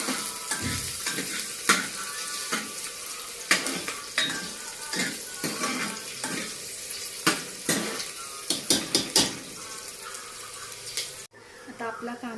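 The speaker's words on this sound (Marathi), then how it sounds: "कांदा आपण थोडासा लाल जर खरपूस परतून घेऊया" Chopped onions sauté and sizzle in a pan as they brown for a mixed vegetable dish. A spatula scrapes through them in repeated close strokes over a continuous fry hiss, then the sound cuts off abruptly near the end.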